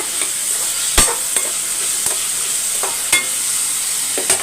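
Food cooking in a pan for tamarind rice sizzles with a steady loud hiss while salt is stirred in, a few sharp scraping knocks of the spoon punctuating the frying.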